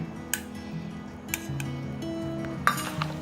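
Spoon mixing a spoonful or so of yogurt starter into milk in a bowl for homemade curd, with soft stirring and a few sharp metallic clinks against the rim.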